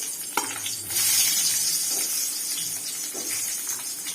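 Onions fry in about two tablespoons of hot oil for a drumstick-leaf curry, with a sharp knock as they drop in, then a strong, steady close sizzle with faint stirring scrapes.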